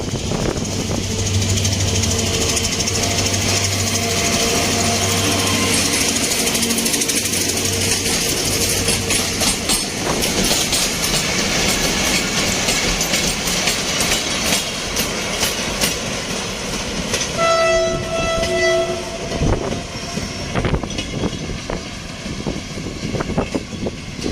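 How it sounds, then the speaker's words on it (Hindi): A freight train led by two diesel locomotives rolls through Dozan Railway Station, Balochistan, Pakistan, close by: loud rumbling and rhythmic clatter of wheels, with a low horn-like drone early and metallic squeals later. "ये कोई दूसरी मालगाड़ी है जो यहाँ से थ्रू पास हुई है"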